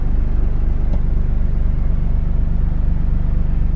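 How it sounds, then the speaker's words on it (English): An older diesel Toyota HJ91 Land Cruiser idles in drive with a loud, close, pulsing clatter and rhythmic rattling vibration that holds steady throughout. "There's a lot of rattle, a lot of shake, a lot of vibration"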